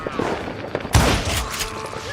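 Gunfire in the Western shooter Call of Juarez Gunslinger, with a sharp, loud shot followed by ringing reverberation and a trailing rattle, over background game sound and shouting voices.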